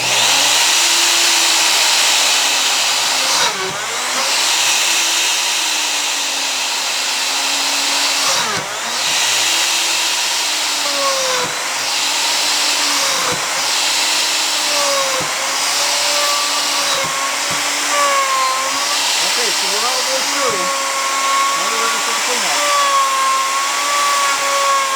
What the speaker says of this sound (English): I'll make a full depth cut on the one end of the mortise, come across and do the same thing on the other end